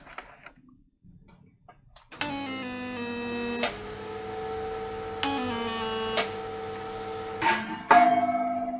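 Two sustained buzzing welder bursts, about a second or more each, tack a steel panel from a DIY tub kit in place, with quiet workshop handling noises between and after them.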